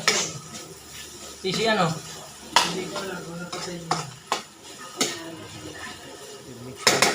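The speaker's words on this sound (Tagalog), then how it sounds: "I-mix natin yung ayos guys para yung egg natin mahalo doon sa ating ampalaya." Egg being stirred into sautéed bitter gourd (ampalaya) in a pan, with scattered clinks and scrapes of a utensil against the pan and a soft sizzle, under intermittent talk.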